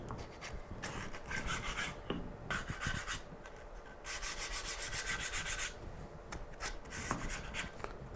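Sandpaper rubs across a small wooden cutting board in steady back-and-forth strokes, a soft, close, scratchy rasp repeating in short bursts with brief gaps.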